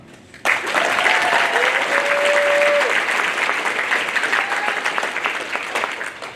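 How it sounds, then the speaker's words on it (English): Audience applause for a board member introduction at STC 2022 special presentations starts abruptly and holds as a dense, loud wash of clapping, with a faint whoop or whistle riding over it. "you may applaud after each one"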